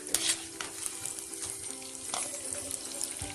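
Suyam dumplings frying in hot oil, a steady soft sizzle with small crackles and occasional stirring or turning sounds, no talking.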